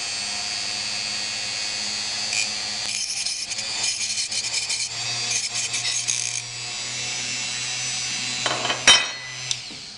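A Dremel rotary tool grinds away at a T8.1 magazine follower, a steady high whine with uneven bursts of contact, a sharp clatter near the end, close and alone.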